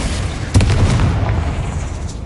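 A Confringo fire spell from the Hogwarts Legacy video game detonates in one heavy booming blast, loud and close, then rolls off into a rumbling tail that fades out over about two seconds.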